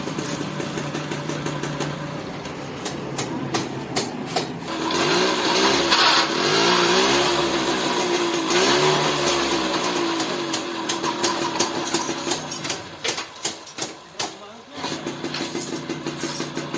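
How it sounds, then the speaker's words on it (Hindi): A TVS XL Super heavy-duty moped with a refitted half engine is kick-started and keeps running. Its close, buzzing engine swells and idles while someone talks over it. "देख सकते हैं एक किक में स्टार्ट हो रहा है, सिर्फ किक मारा स्टार्ट"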